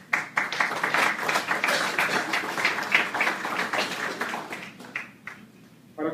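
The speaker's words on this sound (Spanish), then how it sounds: "para quienes pido un fuerte aplauso" Audience applause for the authors at a book presentation on the 1917 Constitution, a burst of clapping that builds quickly, holds dense and fairly loud, then thins and fades near the end with a brief final flurry.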